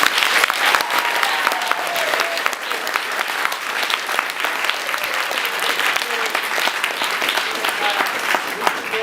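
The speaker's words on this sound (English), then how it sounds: "if we can give a round of applause first to Dave Chai for helping out" An audience gives a round of applause for Dave Chai at a short film DVD reveal and dedication event. The loud, dense clapping runs steadily for the whole stretch, with faint voices underneath.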